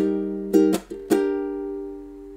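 A ukulele chord rings, then a few quick strums and a chord change follow, the last chord sustaining and fading gently.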